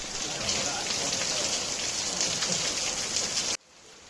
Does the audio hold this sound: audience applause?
no